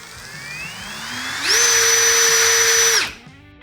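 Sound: cordless drill running at variable speed

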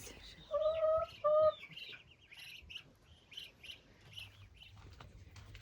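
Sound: hens clucking in the coop

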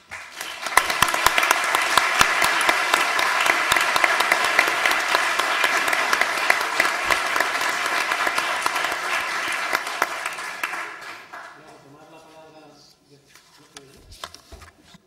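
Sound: audience applause after a talk

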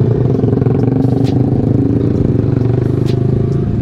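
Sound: Yamaha R15 V3 motorcycle engine while riding

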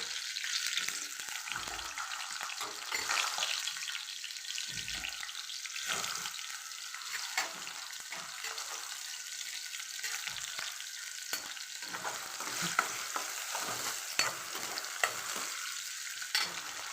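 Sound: potatoes frying and stirred in a pan

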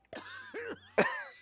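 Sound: character coughing in video game Manual Samuel

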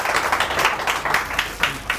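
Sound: audience applause

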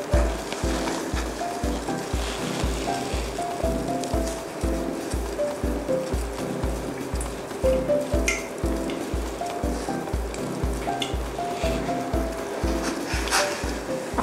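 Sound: oden ingredients cooking in boiling water

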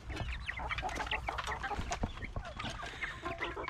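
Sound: chickens clucking

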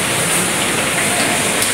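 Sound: heavy rain falling outside

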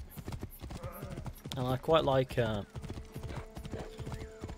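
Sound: horse hooves galloping in video game Assassin's Creed Origins

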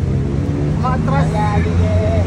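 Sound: motorboat engine revving while reversing

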